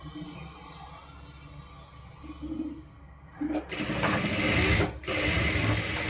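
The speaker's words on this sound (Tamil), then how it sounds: "இந்த இடத்துலையும் நம்ம டாட் பிடிக்க போகிறோம்" Sewing machine stitching a dart in fabric: a quiet start, then a loud burst of fast, continuous whirring stitching, a short pause, then more steady stitching close by.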